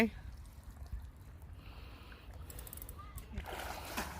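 A hooked fish thrashes at the water's surface, giving a few soft splashes and sloshes over low ambient rumble, with a brighter burst of spray near the end.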